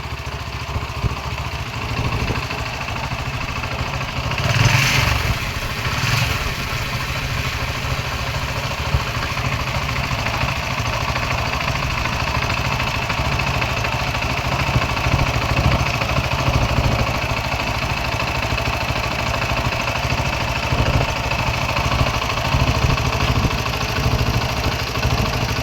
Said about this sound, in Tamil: இப்போ வண்டியை நம்ம ஸ்டார்ட் பண்ணலாம். வண்டியை ஸ்டார்ட் பண்ணிட்டோம்.